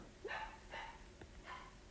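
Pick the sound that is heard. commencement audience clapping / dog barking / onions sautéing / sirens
dog barking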